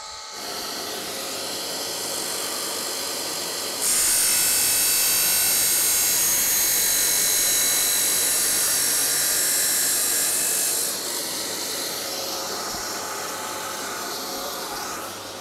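A grinding wheel climb-grinds a gear cutter during resharpening, giving a steady, harsh high-pitched grinding hiss that swells louder for several seconds mid-way before easing back to a lower whir.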